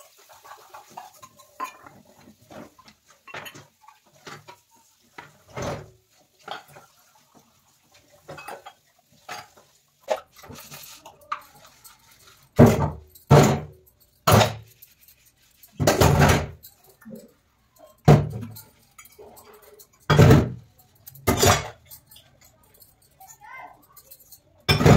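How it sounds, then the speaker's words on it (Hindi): Dishes and utensils being washed by hand in a village home, with intermittent clinks and clatters of pots and cutlery, louder scraping bursts in the second half, and faint background voices. "तो पहले करूँगी बर्तन साफ सारे"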